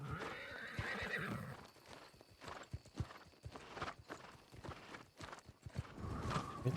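A horse in the New World Aeternum video game whinnies while its hooves clip-clop steadily uphill, the neigh rising clearly near the start and footfalls continuing throughout.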